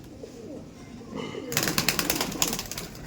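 Andhra pigeons cooing in a loft, soft throaty calls at first, then brighter repeated rhythmic sounds nearby, with a voice talking faintly underneath.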